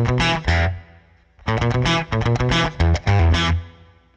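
Electric guitar played through a Line 6 Helix with a delay effect: two short distorted notes, then a quick rhythmic riff of chopped chords, with repeats and reverb trailing after each hit.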